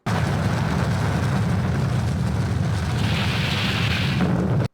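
Atomic bomb explosion over Hiroshima, rendered as a loud, sustained deep roaring rumble with a broad hiss that continues steadily throughout, with no pause or quiet gap.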